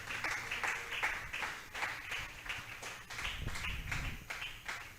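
Church congregation applauds during a service, a steady, moderately distant patter of many hands clapping with a low rumble underneath, no speech over it.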